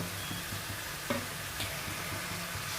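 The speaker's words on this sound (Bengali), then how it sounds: "দিয়ে ভালোভাবে আমি মশলাটাকে একটু কষিয়ে নেব" Spices with mace and garam masala powder sizzle steadily in a pan for mutton rogan josh cooked without onion, garlic, yogurt or tomato, with a few sharp clinks of a spoon stirring close by and no talking.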